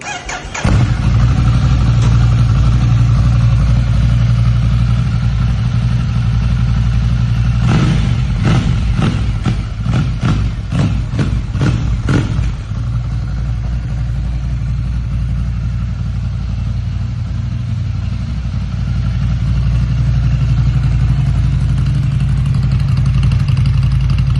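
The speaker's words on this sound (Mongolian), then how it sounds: "За тэгээд энэ мотоциклийнхаа дууг сонссон." A 2016 Ducati Scrambler 803 Icon, an 800cc two-cylinder motorcycle, starts and idles steadily up close, with a burst of sharp rhythmic revs in the middle before settling back to a loud, even idle.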